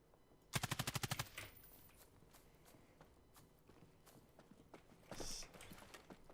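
Silenced gunfire in the first-person shooter battle royale game Islands of Nyne: a fast burst of about eight evenly spaced shots, then quieter scattered in-game sounds and a second louder muffled blast near the end.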